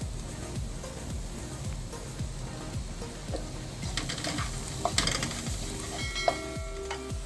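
Carrots and beans for semiya upma are stirred in a pan, with a soft sizzle under repeated scraping strokes of a spoon against the pan at a steady rhythm, close and fairly quiet.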